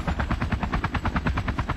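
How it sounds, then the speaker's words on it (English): A helicopter in a military video game, its rotor chopping in a steady rapid pulse close by, loud and continuous with no talk over it. "I hear the chopper nearby."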